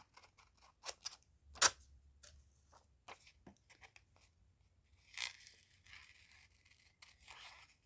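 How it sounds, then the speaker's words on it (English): Scissors cutting paper around collage cutouts in a quiet room, with sparse soft snips, scrapes and rustles, one sharper snip standing out, faint and intermittent. "So I'm going to go ahead and do a little kiss cut around them as well."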